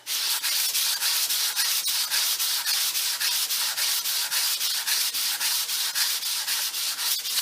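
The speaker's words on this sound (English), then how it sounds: "we're doing this on top of the table saw and using an old belt from the belt sander" A Japanese water stone rubbed back and forth on an old belt-sander belt laid on a table saw top, a steady loud gritty scraping in quick regular strokes throughout.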